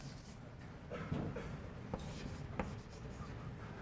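Chalk or marker scratching and tapping across a board during a calculus lecture on limits, quiet irregular strokes with a few sharp taps, close and alone with faint room noise.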